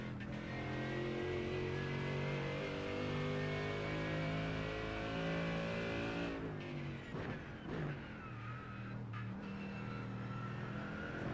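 Race car engines at Sebring in an iRacing IMSA event, night and rain: a steady high-revving engine drone with harmonic whine, then a sharp drop and gear-shift changes as revs fall and climb again, heard continuously without talk.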